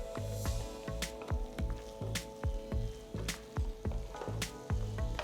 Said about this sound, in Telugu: ఇది కూడా బాగా కలపాలి.